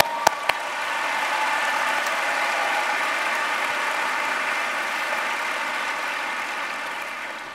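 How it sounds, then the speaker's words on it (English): Steady, wide applause from a large school district convocation crowd for the diversity committee, a continuous even wash after a couple of sharp early claps. "Give them a round of applause"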